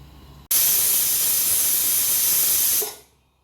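A pressure cooker cooking chhole vents a loud, steady hiss of steam that starts abruptly, holds for over two seconds, then tapers off into quiet.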